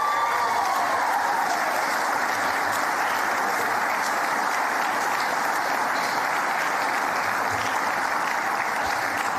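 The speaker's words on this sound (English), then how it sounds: "deserves one more giant round of applause" Large crowd at a sports awards ceremony giving a long round of applause for a newly honoured champion, a dense, even roar of clapping held at steady loudness throughout.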